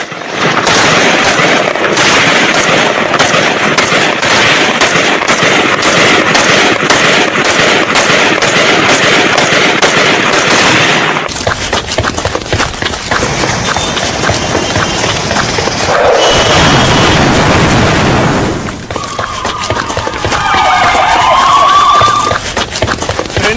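Dense rapid bursts of gunfire crackle for several seconds after an explosive-laden vehicle blast at a Pakistani police training camp, then thinner scattered shots and rumbling booms continue outdoors, loud and chaotic.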